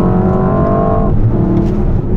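Loud, close engine roar from a Mercedes-AMG S63 E-Performance as it downshifts, the pitch dropping with rev changes and a brief blip, heard alone without talk.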